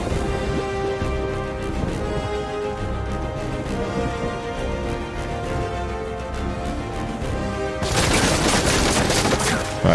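Enemy gunfire in Uncharted 4 crackles in rapid, repeated bursts over a tonal game soundtrack, growing denser and louder toward the end.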